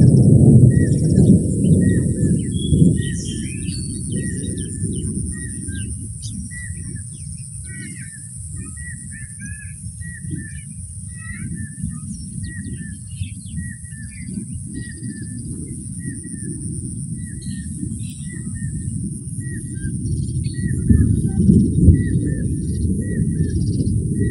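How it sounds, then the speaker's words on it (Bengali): Many birds calling and chirping repeatedly in the distance in a Bangladeshi village, a busy chorus over a low rumbling outdoor background, with no speech. "পাখির শব্দ, পাখির যে কোলাহল, এটা আপনি মনোযোগ সহকারে শুনুন"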